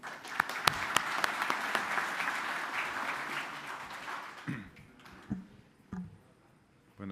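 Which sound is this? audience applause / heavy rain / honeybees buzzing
audience applause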